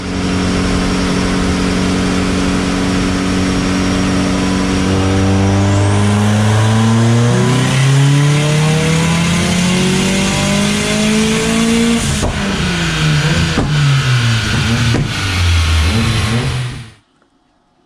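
A Ford Fiesta ST with a Garrett G25-550 turbo, running race gas additive, makes a dyno pull. The engine sounds loud and close as its pitch climbs steadily through the rev range with a few brief dips, then cuts off sharply at the end.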